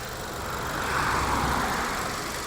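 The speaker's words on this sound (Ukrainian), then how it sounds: "Давайте вімкнемо світло, подивимося, як працює двигун." A Volkswagen Golf with a 1.8-litre TSI petrol engine idles, a soft, steady engine hum with a slight swell in the middle and no talking.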